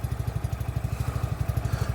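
A Yamaha YBR motorcycle under restoration runs close by. The single-cylinder engine gives off a steady, rapid, even thumping beat, loud and alone, with no talk over it.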